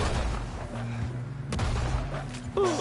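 Gunshots in Red Dead Redemption 2, a few sharp cracks scattered over a busy in-game backdrop of low rumble and ambient noise, one loud shot standing out midway.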